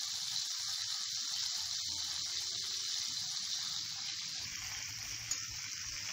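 Okra (bhindi) frying in a pan on medium heat, a continuous close hiss and sizzle holding steady throughout with a small tap near the end.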